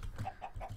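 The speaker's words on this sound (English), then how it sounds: "Got myself some baby chicken," A chicken in the Minecraft video game clucks softly in three evenly spaced, quiet calls with no talk over them.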